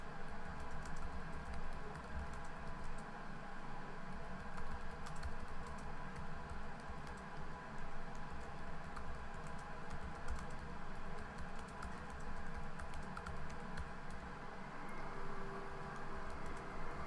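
Steady typing on a computer keyboard while composing a short gallery introduction in WordPress, continuous soft key clatter over a constant background hum with no talk.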